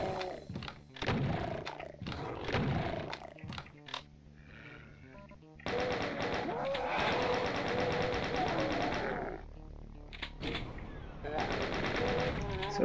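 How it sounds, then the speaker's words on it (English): Rapid chaingunner bursts in Doom II on Massacre difficulty in a creepy map, with dense repeated gunfire filling most of the stretch, pausing briefly, then resuming loud and continuous alongside other game noises. "Surprise chain gunner."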